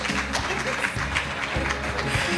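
An audience at the Women in Finance & Investment Summit and Awards in Ghana applauds steadily with dense, continuous clapping from start to finish.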